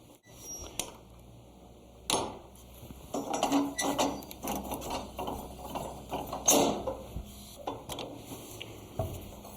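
Clanking metal clicks and ratchet-like knocks as the jaws of a wheelwright's rubber-tire stand are released from a freshly brazed buggy wheel band, several sharp close impacts with mechanical rattling in between.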